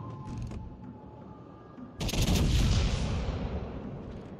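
Gunfire in a shooting video game: a few faint clicks and tones at first, then a sudden loud burst of shots that booms and rumbles before slowly decaying.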